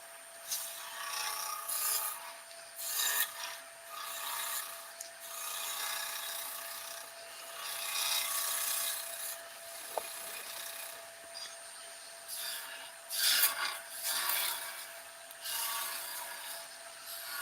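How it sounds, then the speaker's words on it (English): A skew chisel cuts wood on a lathe, finishing work left after a gouge roughed out the waste. It makes a steady rasping, scraping sound with repeated strokes that swell and fade, close and fairly quiet, with no talking. "Take the waste out with a gouge. Use the skew chisel to finish them off."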